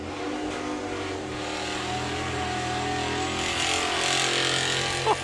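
A Dutton car at a VW drag racing event revs its engine hard in a continuous rising roar at moderate distance, building louder toward the end with crowd ambience in the background.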